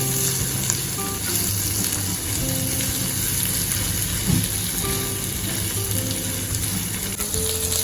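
Potatoes and anchovies sizzle steadily in a pan while being mixed for sambal ikan bilis, a continuous close frying hiss with faint scraping of stirring throughout and no talk.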